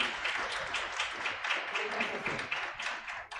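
An audience at a meeting on local leadership and resilient territories claps steadily, a broad, moderately loud patter of many hands that continues evenly throughout with no voices over it.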